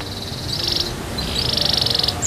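A canary in a breeding setting sings close by, fast trilling chirp runs in two bursts over a steady background hum.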